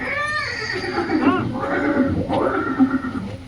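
A horse gives several loud, wavering neighs and whinnies in a staged scene of Maharana Pratap's horse Chetak, heard up close over a steady background murmur.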